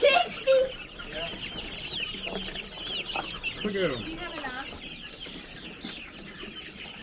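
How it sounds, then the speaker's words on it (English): Chickens in a chicken tractor, about sixty birds of mixed sizes, cluck and squawk close by in overlapping bursts, with a few louder calls. People talk among them. "How many chickens do we have?"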